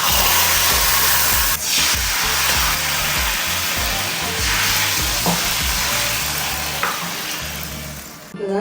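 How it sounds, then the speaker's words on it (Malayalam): Onions frying well browned in hot oil for tempering a curry, a loud, constant hissing sizzle with occasional stirring clinks, close up and uninterrupted by speech. "നമ്മുടെ ഉള്ളിയൊക്കെ നല്ലപോലെ മൂത്ത് വിട്ടിട്ടുണ്ട്. നമുക്ക് താളിച്ചൊഴിക്കാം."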